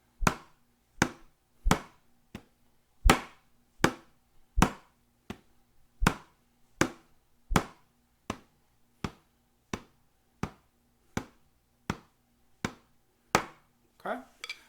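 A snare drum plays right-hand rebound strokes and left-hand controlled taps, about twenty crisp, evenly spaced hits that sound fairly soft and alone, each with a short ringing decay.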